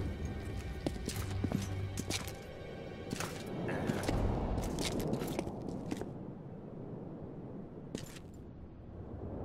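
Roach, a horse in The Witcher 2, clip-clops through the game at a quiet, uneven pace, the hooves mixed with soft crunches and scattered clicks.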